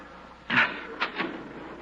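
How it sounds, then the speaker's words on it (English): A heavy metal door in a tunnel is opened for a radio drama, giving a short scraping clunk followed by two softer knocks, close and fairly faint, with no one speaking. "Open the door."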